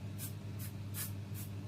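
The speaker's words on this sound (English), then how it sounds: "all we're going to do is spray it like so, very quick bursts." A mite-control pesticide spray on snake racks goes off in four quick hissing bursts, evenly spaced and close, over a steady low hum.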